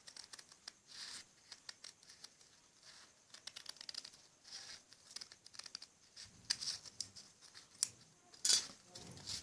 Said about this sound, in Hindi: जो एक्स्ट्रा बुकरम है इसको भी ऐसे काट लेना होता है